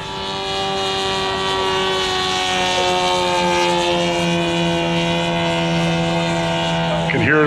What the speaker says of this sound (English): That engine is 220 cc's, 4-cylinder engine.